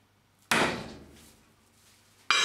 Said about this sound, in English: I'm going to take the hammer and I'm going to strike the punch